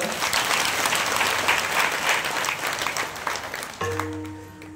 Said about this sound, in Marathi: माय एकदा जरा टाळ्या वाजवा